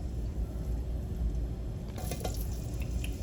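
Vegetables tipped into a pan for sautéing give a brief burst of splashing and sizzling partway through, over a steady low background hiss with no talk.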